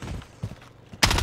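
Gunfire in Call of Duty: Warzone on Rebirth Island, heard as a short loud burst of shots that cuts in abruptly near the end after quieter rumbling and muffled game noise.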